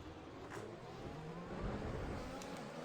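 Racing Point Formula 1 car engine in a racing video game, a faint steady high-pitched whine with a slight rising pitch as it runs alongside other cars.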